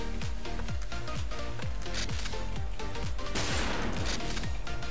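Repeated gunshots in a sniper duel video game, sharp shots firing in a steady rhythm over a constant layer of game music or noise, with a louder burst near the end.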